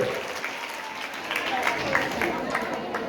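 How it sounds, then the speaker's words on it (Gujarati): An audience claps together at a Jain religious gathering in Rapar, a dense, steady patter of many hands lasting the whole stretch at moderate volume, with no single voice standing out. "તાળીઓ પાડી લેજો તમે આના માટે."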